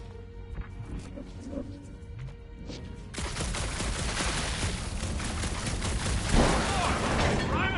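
Dense, loud gunfire and crashing action erupt midway through a Guardians of the Galaxy video game scene, following quieter ambience with a voice talking over it.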